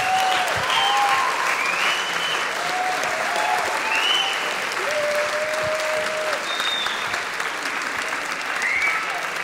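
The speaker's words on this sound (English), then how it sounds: "Give everyone a round of applause." An audience at a live-streamed gathering applauds in a dense, steady wash of clapping, while scattered whoops and voices rise over it.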